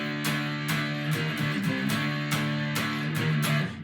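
Electric guitar plays the verse riff of a song, a steady offbeat pattern of repeated plucked notes with sharp attacks, sounding close and loud with no voice over it.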